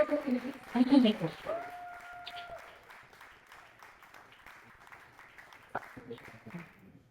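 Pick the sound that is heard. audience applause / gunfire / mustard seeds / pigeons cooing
audience applause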